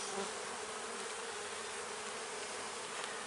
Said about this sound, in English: they say bees don't like having their hives rearranged like this